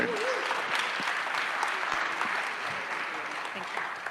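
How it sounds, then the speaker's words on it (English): Steady applause from an audience at a conference session on digital democracy, following a presentation, with a dense continuous wash of clapping at moderate level and faint voices beneath. "A big applause for him."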